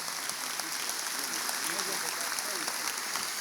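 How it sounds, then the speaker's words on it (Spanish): A church congregation at a pastors' and workers' retreat applauds in a faint, steady wash of clapping with a voice speaking over it. "Dele un aplauso al Señor"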